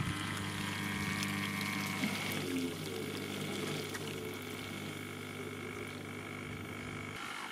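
A Hava R01 mini countertop dishwasher draining, its pump humming steadily while water rushes and gurgles out, close and continuous with no talking.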